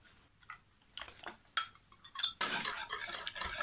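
Whisk or spoon clinking and scraping in a bowl while honey cake batter with soda and eggs is stirred, irregular close taps giving way to a faster, steadier mixing swish.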